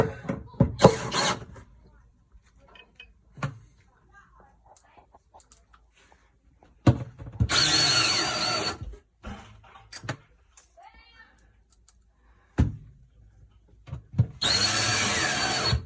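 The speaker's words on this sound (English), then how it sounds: "Snug her down a little bit with your drill." A power drill whirs in short bursts, driving screws into wood while installing a rotating cupboard, with clicks and handling noises between the runs.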